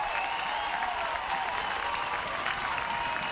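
Steady applause from a rugby sevens stadium crowd at a women's match, Russia against Canada, in Langford, a dense wash of clapping that holds at an even, moderate level throughout.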